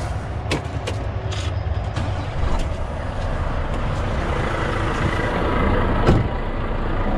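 A semi-truck's engine idles steadily after start-up, a broad low rumble with a few faint clanks and hisses on top, close by and with no talk.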